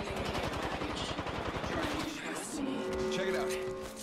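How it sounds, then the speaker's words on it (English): Rapid automatic gunfire in the video game Apex Legends, a dense burst of shots over the first two seconds, followed by game effects and a brief tone. "Taking fire. Recharging my crosshairs. The enemies are shooting."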